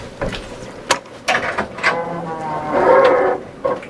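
Door mechanisms clank and ratchet in the StarCraft 2 Island Defense custom game, a series of sharp mechanical clicks and grinding slides, with a longer sliding rumble near the end, no talk over it.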